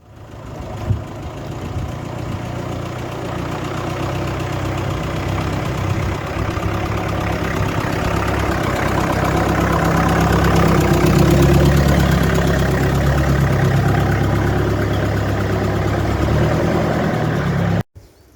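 A Ford 3000 tractor engine idles close by with a steady, loud, low rumble and a slight knock, running evenly for the whole stretch before cutting off abruptly at the very end.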